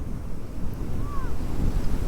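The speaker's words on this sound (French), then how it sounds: "le vent est relativement fort avec une mer bien houleuse" Strong wind buffets the microphone over a rough, heaving sea, with low rumbling gusts and wave wash throughout. A faint whistle-like tone rises briefly in the middle.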